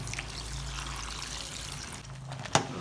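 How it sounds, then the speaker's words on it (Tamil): Water pours steadily into a pot of crab curry seasoned with chili powder, turmeric and salt, a soft continuous trickle close by that stops abruptly near the end with a brief clink. "தண்ணி ஊற்றிடுவோம்."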